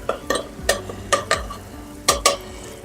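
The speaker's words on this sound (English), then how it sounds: "we're going to saute that bacon in the olive oil for about 6 minutes." About four slices of chopped bacon sauté in olive oil in a pot, with a steady close sizzle under a series of sharp, rhythmic clacks as a utensil stirs against the pot.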